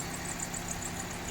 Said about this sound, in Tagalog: At ito, kine-check na nila kung okay ba yung makina.